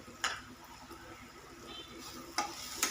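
Kolhapuri onion-garlic chutney roasting in hot oil in a pan, with a soft continuous fry under a few sharp spatula scrapes and clicks.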